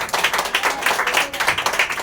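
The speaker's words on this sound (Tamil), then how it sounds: "ஜோரா கைத்தட்டுங்க" A church congregation clapping hands in rapid, steady rhythm, loud and close, a continuous run of sharp claps at roughly eight per second with no speech.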